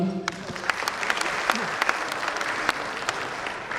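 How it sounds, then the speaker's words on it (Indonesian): Audience applause fills an awards ceremony hall, a sustained, dense clapping from a large crowd heard up close and even throughout. "Mungkin bisa kita kasih aplaus sekali lagi"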